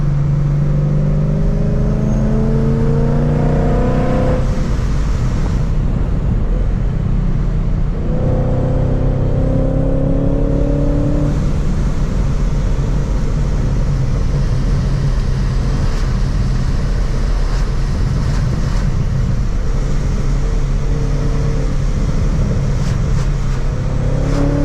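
A loud, deep exhaust rumble from a 700 hp supercharged V8 Mustang with exhaust valves open, the engine note repeatedly rising and falling as the car accelerates and shifts on back roads.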